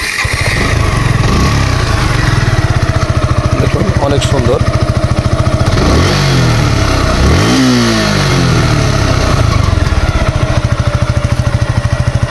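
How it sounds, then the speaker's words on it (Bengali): A 2022 Suzuki Gixxer naked FI ABS motorcycle engine idles loudly and steadily up close, with several rising and falling revs blipping through the middle; someone talks over it briefly. "তো দর্শক, এই গাড়িটা স্টার্ট করে সাউন্ড কন্ডিশন দেখাবো,"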